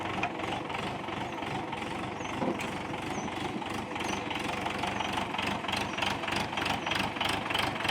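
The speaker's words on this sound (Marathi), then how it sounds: "निघाला ट्रॅक्टर आता" A tractor engine chugs steadily as the tractor pulls away on a farm. A fairly quiet, even, rhythmic knocking drone runs throughout with no voices.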